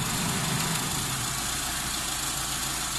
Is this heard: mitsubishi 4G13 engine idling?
yes